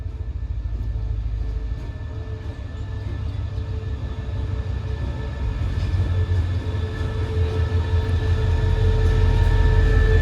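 An express train arriving from Trang rolls into the long-distance rail depot yard at Bang Sue, a steady, fairly loud low rumble of wheels and carriages that swells slightly toward the end, with no talking over it.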